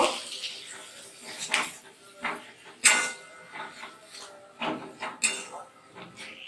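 Spices and onions are stirred together in a pot for chicken kasha, with irregular metallic clanks and scrapes of the utensil against the pot, close and moderately loud.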